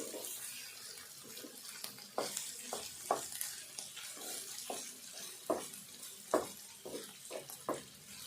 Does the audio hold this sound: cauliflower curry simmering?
yes